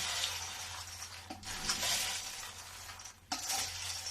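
Dry namkeen snack mix being tossed and stirred, giving a continuous crisp rustling rattle with a couple of sharper clinks, close and fairly quiet.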